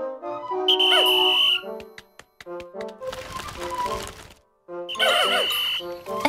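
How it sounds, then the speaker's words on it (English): Pikmin 4 game whistle blown twice, bright rising tonal whistle bursts with chirpy game creature calls, separated by a stretch of clattering and rustling effects. "Blow your whistle."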